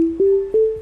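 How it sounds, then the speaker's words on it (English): Deep sub bass synth note for a beat at roughly 170 BPM, a steady sustained low tone with two soft re-triggers, heard alone. "And all I have so far is this sub bass"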